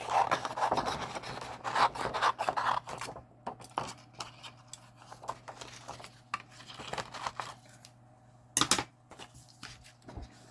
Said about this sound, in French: Donc, on coupe grossièrement tout le tour.